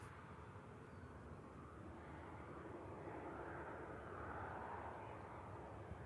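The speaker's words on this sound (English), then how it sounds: "Singapore Airlines using the Airbus A350 900 series." Singapore Airlines Airbus A350-900 airliner at Manchester Airport, a steady, moderately distant broadband engine roar that swells slightly toward the middle and holds for the whole stretch, with no talk over it.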